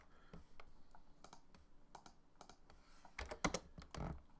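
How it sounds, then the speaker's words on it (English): Computer keyboard keys tapped a few at a time, faint and close, with a quick double press of the enter key near the end standing out louder. "I'm going to do a double enter here."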